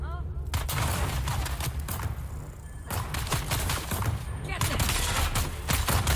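A deployed turret in the video game Dune Awakening fires in rapid bursts, sharp repeated reports clustered in volleys over several seconds, with brief pauses between and a voice speaking now and then underneath.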